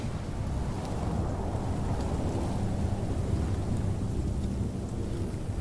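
A storm sound effect of thunder and rain: a steady low rumble with heavy rain hiss, rolling continuously without clear individual cracks.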